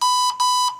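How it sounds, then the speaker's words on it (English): Red Brick 30A electronic speed controller in programming mode sounding two short, steady electronic beeps in quick succession, loud and clean with no voices. "And one beep low."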